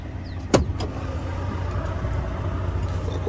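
A truck engine idles with a steady low rumble, with a sharp knock or door clunk near the start and a few faint clicks, heard up close and alone.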